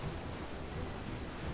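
Rushing water pours down Hassafallen waterfall in Hovslätt, outside Jönköping, a steady, dense roar with no breaks, heard alone at moderate level.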